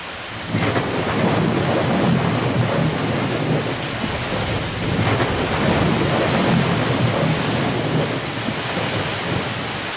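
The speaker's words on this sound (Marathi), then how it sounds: "आबाळाच्या गर्जनेचा आवाज तर कसं की पहा" Thunder rolls low and long through a steady downpour of heavy rain, the rumbling swelling and fading in broad waves.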